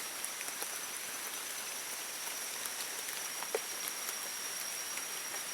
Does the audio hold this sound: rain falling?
yes